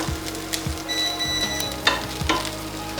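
Chicken and onions with a little lemon stirred in a hot, sizzling pan, with a steady fry hiss and scraping spoon strokes, close by and without voices.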